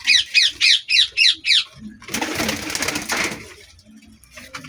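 Pigeons in a home loft give six quick, evenly spaced calls, followed by a louder burst of fluttering, rustling noise and scattered softer sounds.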